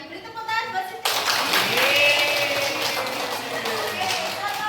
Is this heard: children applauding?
yes